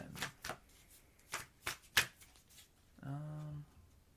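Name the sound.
shuffling a new deck of tarot cards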